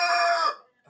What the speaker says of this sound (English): my rooster is agitated